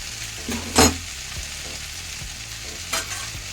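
A chickpea and potato curry cooks in a pan on a gas stove, with a soft steady sizzle and a couple of brief scraping stirs near the start and end.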